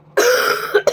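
A person at home coughs up close, one rough, sustained burst followed by two short hacks in quick succession.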